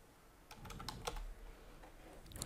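Keys clack on a computer keyboard as a new folder name is typed, a quick run of close, crisp taps spaced irregularly over a low steady hum, with no voices.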